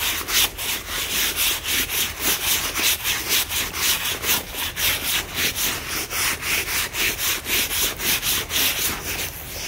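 A stiff brush scrubs dirt off with baking soda and vinegar, giving fast, even back-and-forth strokes in a steady rhythm that runs close and unbroken, with no voices.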